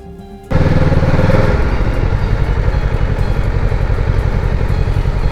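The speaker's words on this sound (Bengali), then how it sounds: "তো বাঁদিক থেকে ওভারটেক আর না করে আমি বাইক পেছনে নিয়ে এসে ডান দিক দিয়ে ওভারটেক করলাম।" A Kawasaki motorcycle on a North Sikkim mountain road roars up loud and close after a quieter opening, its engine holding a steady, throaty drone as the bike pulls out to overtake.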